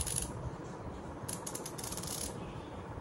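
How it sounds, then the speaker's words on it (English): Fine, quiet clicking from a Vessel TD-6808TX 72-tooth ratchet screwdriver with a clear resin handle, turned in a steady run of tiny pawl clicks that are faint and close. "And this is a ratchet screwdriver."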